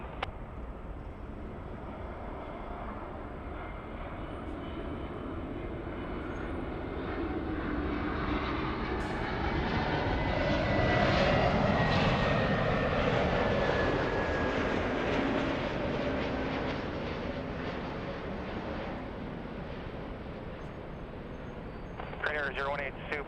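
An airliner departing LAX on a flight to South Korea, its jet engines roaring continuously as a long rumble that swells and fades, with radio chatter faintly heard.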